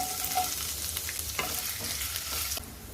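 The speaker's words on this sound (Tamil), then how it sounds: "எண்ணெய் சூடானதுக்கப்புறம் இதில் இஞ்சி பூண்டு பேஸ்ட்டு, பாதி கேப்சிகம் சேர்த்துக்கிறேங்க." Ginger garlic paste and capsicum frying in hot oil for a veg gravy, a steady hissing sizzle with occasional stirring scrapes and clicks, close and continuous without speech.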